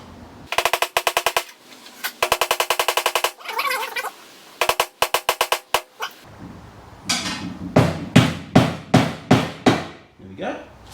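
A hammer taps trim clip nipples into a 1970 VW Beetle body in quick bursts of sharp metallic blows, then slower, heavier single strikes toward the end, close and loud.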